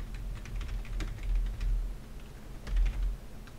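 Fingers tap a computer keyboard in quick irregular clusters of clicks, fairly faint against a low background hum, with no voices.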